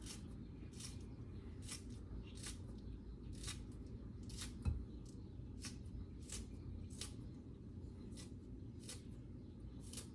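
Scissors snipping through an onion in a kitchen, a rapid, regular series of crisp cuts roughly every half second, close and moderately quiet over a steady background hum, no talking.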